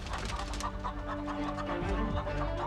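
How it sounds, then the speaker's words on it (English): Chickens clucking close by in a farmyard in a closed community in Ukraine before slaughter, a steady run of low, throaty clucks and murmurs across a few seconds, without talk over them. "Come, we have chickens to slaughter."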